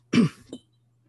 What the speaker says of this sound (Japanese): 咳が出たりします